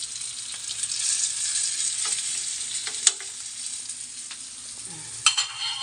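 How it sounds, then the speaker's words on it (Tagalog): Labahita fish fries in a pan with a steady, close hiss of oil, broken by occasional pops and a couple of sharper clinks. "Piniprito ko yung ano guys. Yan, yung labahita natin."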